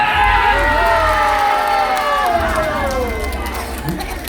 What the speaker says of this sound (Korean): 박수 함께 함성